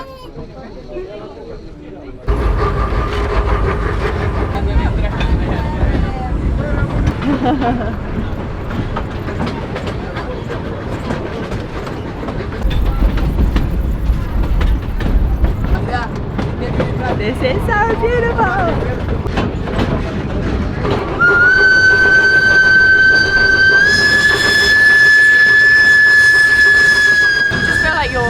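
Passenger train running along a river through a valley, a loud continuous rumble with clickety-clack of wheels, later joined by a rising high metallic whine, heard from inside with people talking now and then.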